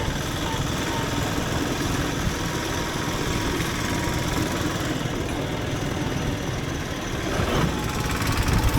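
A small motorcycle engine hums steadily throughout, a continuous buzzing drone with road and wind noise, fairly loud and close.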